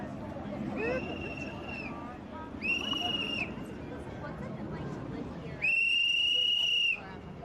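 A shrill whistle sounds three times over a murmur of crowd chatter; the first two blasts are short, and the last is louder and longer.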